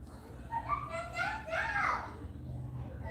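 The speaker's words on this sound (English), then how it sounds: "can you hear all the kids yelling and crying in the background?" Children yell and cry somewhere in the background, their high voices rising and falling faintly over a low room hum.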